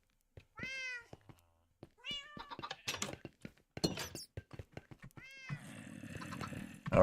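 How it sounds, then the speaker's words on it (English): Several Minecraft cats meow in-game, three or four distinct rising mews spaced a second or two apart, mixed with soft blocky thunks and clicks, with a burst of busier game noise near the end. "let's go get these random cats tamed back at the other village"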